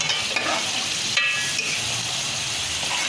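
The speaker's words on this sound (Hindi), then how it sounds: "ये देखिए, हमारा मसाला अच्छी तरह भुन गया।" Masala spice paste fries in oil in a pan with a continuous bright sizzle, punctuated by a few sharp scraping stirs of a utensil, close and steady with no speech.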